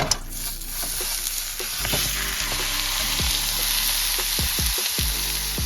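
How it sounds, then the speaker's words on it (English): Ground beef sizzling loudly in a frying pan, a dense steady hiss close up with a rapid series of scraping stirs building toward the end, no talking. "I got my ground beef right here. I'm about to go ahead and throw that in the pan."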